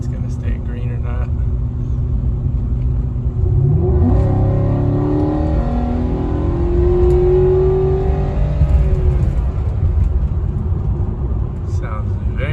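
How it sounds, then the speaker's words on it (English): A car with a custom air intake accelerates up a hill, its engine note rising loudly from about four seconds in and holding steady under a constant road rumble, with no talk over it. "You can actually hear the motor now."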